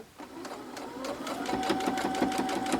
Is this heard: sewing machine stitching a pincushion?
yes